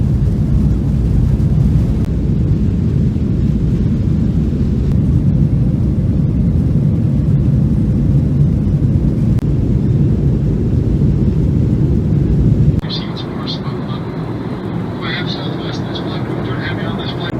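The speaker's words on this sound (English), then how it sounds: "Anyway, we're taking off." An airplane taking off, heard from inside the passenger cabin as a loud, deep, continuous engine rumble that later drops to a quieter, steadier hum with faint higher tones.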